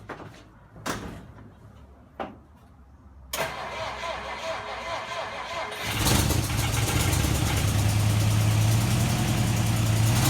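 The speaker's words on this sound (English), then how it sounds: "this car fires right up." A car cranks and fires up after fresh fuel lines and a new fuel filter, a few short clicks and a door-like thump first, then a loud close engine settling into a steady, rumbling idle.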